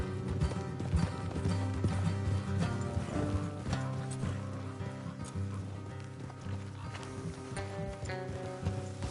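Horses' hooves clip-clop in the Western video game Red Dead Redemption 2, a steady rhythmic trotting beat over a dense bed of game music, with no talk.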